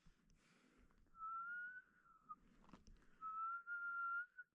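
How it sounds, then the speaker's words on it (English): A person whistles a few sustained, slightly wavering notes in two phrases, close and clear, with faint low background noise and a short knock between them. "Start whistling right now."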